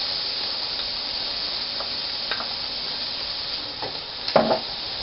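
Chopped onion sweats in olive oil and butter in a pan, making a steady soft sizzle with a few faint pops and a slightly louder burst of crackling near the end.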